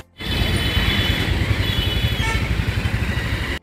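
Motorcycle engine droning steadily while the bike is ridden, a loud close mid-pitched hum with faint rhythmic pulsing throughout, no talking.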